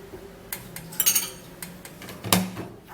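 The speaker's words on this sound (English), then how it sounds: "we're going to be scooping in 2 tablespoons of yogurt." A tablespoon scoops yogurt into a bowl, giving a few close metallic clinks and taps of spoon against dish, with a sharper knock near the end and no talk.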